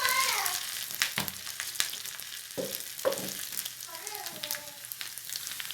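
Mustard seeds, urad dal and onion frying in coconut oil for a radish sambar, a close crackling sizzle with sharp pops and spits, fading in and out between bursts.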